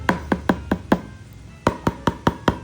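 Crisp, hollow taps of an Alp Sport lightweight hybrid soft EVA pickleball paddle in two quick bursts of roughly five hits each, separated by a short pause, close and clear.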